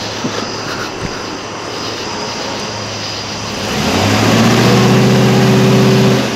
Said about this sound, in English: so should I just try and do a second gear burnout?